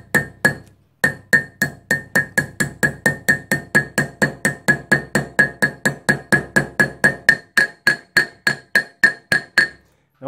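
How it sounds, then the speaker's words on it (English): A hammer taps steadily on metal, about three strikes per second, with a bright ringing tone, close by and alone for ten seconds, driving a bearing into a trailer hub. "using our special hammer, I'm just going to tap that into place."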